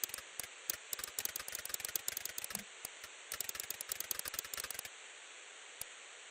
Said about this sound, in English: Like a printer of some type.